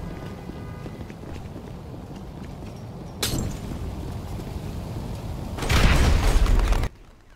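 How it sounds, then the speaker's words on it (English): Explosive Molotov cocktails bursting in GTA V during a biker club mission: a sharp burst near the middle, then a louder, longer fiery whoosh before a sudden cutoff, over steady game background noise. "Who's throwing explosive Molotovs?"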